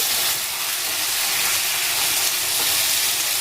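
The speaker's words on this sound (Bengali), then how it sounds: "একটুখানি কষিয়ে নেব" Chicken curry sizzling loudly and continuously in a pan as it is stirred and sautéed, a dense close frying hiss with no talking.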